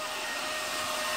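Cooling fan of a solar inverter in an off-grid setup without battery, running as a steady, close broadband whir with no pauses and no talk.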